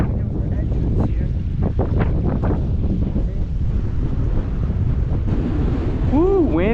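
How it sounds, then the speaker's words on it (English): Wind blowing outdoors at a Florida campsite, with steady, close buffeting rumble across the microphone and short gusty bursts, ending with a faint whistling sound. "Woo, windy."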